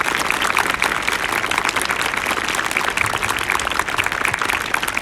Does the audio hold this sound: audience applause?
yes